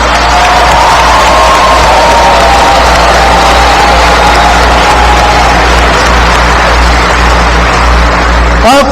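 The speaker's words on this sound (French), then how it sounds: "applaudissons-les" A large audience at a graduation ceremony for law, nursing and physiotherapy graduates applauds loudly and continuously, a thick, sustained roar of clapping and cheering that fills the hall for several seconds.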